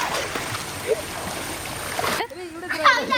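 Children swim and splash in water with their father nearby, giving choppy, close splashing and rippling, mixed with voices talking over it.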